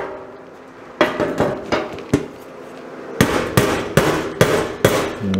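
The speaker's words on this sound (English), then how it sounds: "So it needs a little bit of dolly and hammer there too." Sharp metallic hammer-and-dolly blows strike sheet metal on a Ford F100 truck bed in quick bursts, a short cluster first, then a faster run of ringing hits after a pause.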